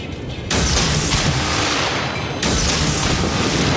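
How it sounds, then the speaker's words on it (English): Naval guns in the Umikazi warship game fire at an enemy warship in two heavy, sustained booming blasts, loud and close, their roar filling the clip with no speech. "Concentrate fire on the enemy warship"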